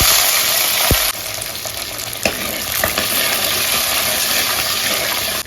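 Small chopped onions sauté in a pan, a continuous bright sizzle with occasional sharp clinks of a utensil against the pan.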